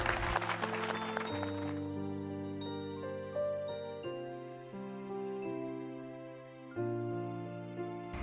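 A short burst of recorded clapping opens a children's Thai alphabet lesson, then fades into a series of bright sustained chime and bell tones that ring on alone.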